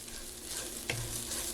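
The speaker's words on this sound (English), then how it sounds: "So you want to stir stir, stir, stir, stir. Not let the rice stick and not let the rice burn." Rice toasting in a pan is stirred, with a steady soft sizzle under a single sharper scrape partway through.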